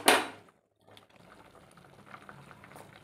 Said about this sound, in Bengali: এই দেখুন একদম কম আঁচে আমি একটু ফুটিয়ে নিচ্ছি।